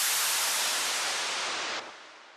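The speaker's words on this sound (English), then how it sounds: "If I wanted just the white noise" Broadband white noise hiss from a Massive software synthesizer, a steady loud wash that holds for almost two seconds, then drops off sharply to a quieter tail.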